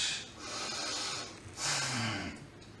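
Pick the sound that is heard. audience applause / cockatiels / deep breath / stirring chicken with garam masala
deep breath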